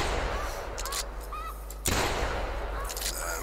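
Hunting rifle shots ring out in the video game theHunter during a snow goose hunt, two sharp, loud reports roughly a second apart, each with a long, fading tail over steady ambient wind.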